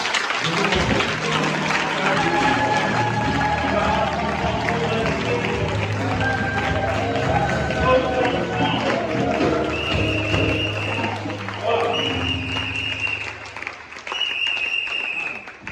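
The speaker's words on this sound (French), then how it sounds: "Est-ce qu'on peut acclamer tous les enfants?" Church congregation applauding the children, broad sustained clapping mixed with crowd noise and voices, continuing for a long stretch with talking throughout.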